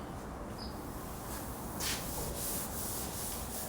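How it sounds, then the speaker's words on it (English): Hand sanding of body filler on a Porsche 356 panel: a steady, soft, close-up scratchy rubbing that runs continuously, with slight swells in intensity. "Here I just sand a little bit more"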